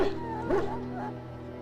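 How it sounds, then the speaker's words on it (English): A dog in the video game Dragon Age: Origins whimpers plaintively, giving two short, high, rising whines close by over a quiet, humming background. "After you are done, he whimpers plaintively."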